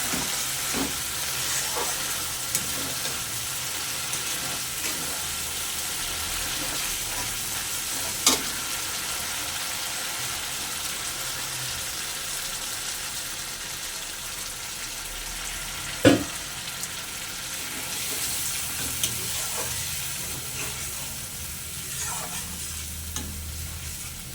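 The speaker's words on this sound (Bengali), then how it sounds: "ঝোলটা আমার খুব ভালো করে ফুটে গেছে" A pan of egg curry gravy boils and sizzles steadily, with a few sharp clinks of a utensil against the pot along the way.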